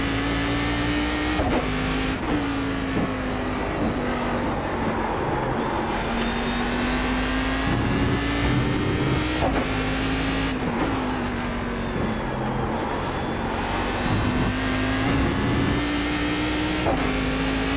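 Race car engine in iRacing at Monza roars continuously and loud for the whole stretch, pitch rising and dropping with gear changes and throttle lifts.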